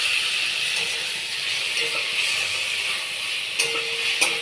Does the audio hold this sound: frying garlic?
yes